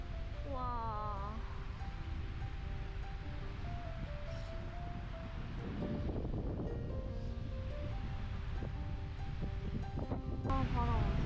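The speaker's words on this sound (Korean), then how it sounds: "아, 바람 엄청 많이 부네." Strong wind gusting across the Osoyoos desert campsite at the NK'MIP resort RV park in British Columbia, a steady broadband roar with a little faint voice and tonal sound mixed in underneath.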